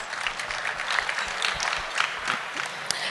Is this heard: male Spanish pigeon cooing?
no